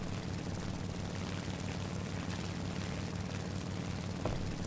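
Steady engine drone of a B7A2 fighter bomber flying fast at low altitude in the War Thunder video game, a continuous loud propeller roar with no breaks and no talking.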